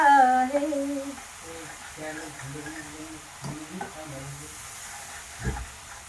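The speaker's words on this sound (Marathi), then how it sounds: "आता मसाला टाकलाय मी पैकी आणि परतून घेऊ" Masala being sautéed in a pan for a village-style mutton vadi dish gives a soft sizzle and spatula stirring, faint and close, with a voice or tonal sound early on and occasional scraping knocks.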